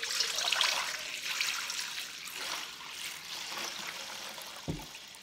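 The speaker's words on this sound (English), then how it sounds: "Let's get rid of the water on top" Water is poured off the top of settled noodle starch liquid for Shanxi rolled noodle skins, a soft continuous trickle and splash with a brief low thud near the end.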